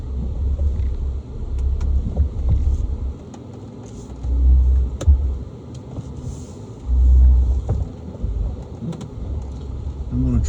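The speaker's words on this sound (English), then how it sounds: "I am probably going to make a little bit of a bumpity bump noise." A car rolls along a bumpy forest service road at night in Land Between the Lakes, western Kentucky, in July, its low rumble swelling in heavy surges as the tires jolt over rough ground, with faint sharp knocks throughout.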